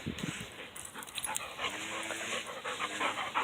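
Two black Labrador dogs panting rapidly and steadily up close, a breathy rhythmic huffing that runs throughout with a few faint whimpers mixed in.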